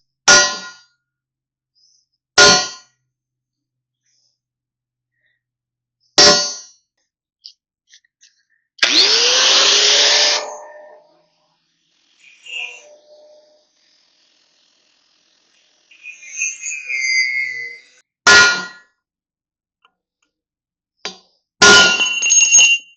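A hammer strikes a chisel driven into a seam on a trailer build, making sharp metallic clangs spaced out over time, about six separate loud hits with a brief grinding burst and quieter scrapes between them.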